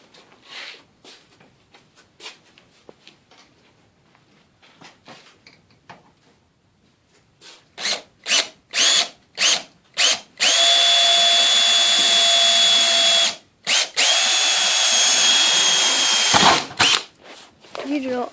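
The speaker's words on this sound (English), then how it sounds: "Can you drill all the way through?" A power drill fitted with a steel bit bores through metal during garage door replacement, first in short ticking pulses, then in long loud, steady whining runs close by, with a brief pause between them.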